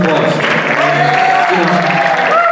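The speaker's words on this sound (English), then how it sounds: "Give yourselves a round of applause." Steady applause from an audience, a continuous wash of clapping with a few tonal sounds and voices mixed in.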